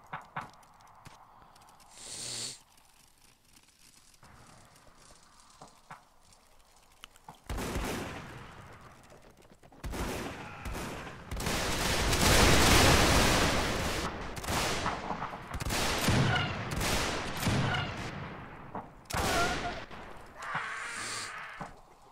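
Musket volleys and scattered gunfire in a Mount and Blade Warband battle, with bursts of crackling shots and heavy fusillades after a quiet opening, mixed with hoofbeats and battlefield clatter.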